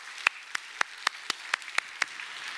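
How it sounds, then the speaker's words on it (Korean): Scattered, sparse claps at a church service, about eight sharp separate hits in under three seconds, fairly faint, more like a few people clapping than full applause. "여러분이 크게 한번 박수해 주시기 바랍니다"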